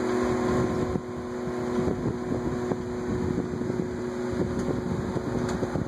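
Vornado twin window fan running steadily up close, a continuous whirring drone with two slightly different hum pitches beating against each other, alone with no talk.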